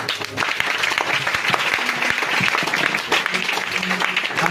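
A church congregation claps and cheers loudly in praise of Jesus, a dense, steady burst of applause with scattered voices and shouts mixed in throughout.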